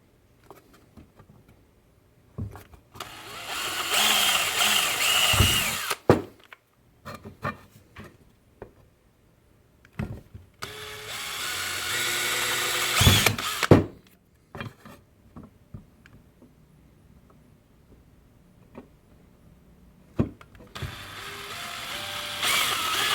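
A Dremel rotary tool drilling holes in a workpiece resting on a block of wood, heard in three separate loud whirring bursts of a few seconds each, broken by quiet gaps with handling clicks and knocks.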